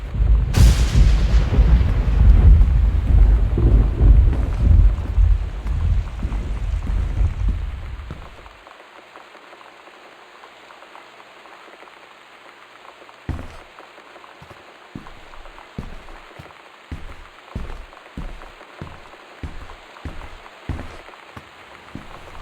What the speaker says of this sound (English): Torrential rain conditions affecting the following counties.